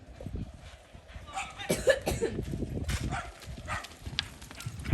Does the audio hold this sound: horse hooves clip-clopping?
yes